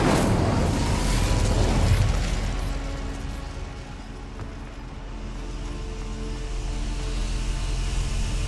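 A fiery Incendio spell cast in the Hogwarts Legacy video game, a loud burst of flame and rumble that swells early then settles into a steady crackling roar, with no talk.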